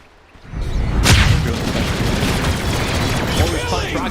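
Rocket Barrage ability in the Dota 2 video game during a heated fight: a sharp blast followed by a dense, continuous rattle of rapid explosive impacts, loud and sustained, with voices mixed in.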